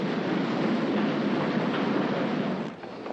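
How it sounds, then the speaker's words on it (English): Express train at a station platform, a steady broadband roar of rolling rail noise that holds loud and then eases off near the end. "The train now standing at platform 7 is the express for London and will be leaving in 2 minutes"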